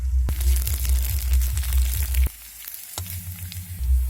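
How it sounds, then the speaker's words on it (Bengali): Potatoes fry in hot oil in a pan, a close, loud crackling sizzle with a brief pause midway before the frying resumes; no talking. "আলুগুলোকে একটু লাল করে ভেজে নিতে হবে"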